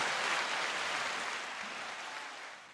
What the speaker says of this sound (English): we got just applause for the 6-star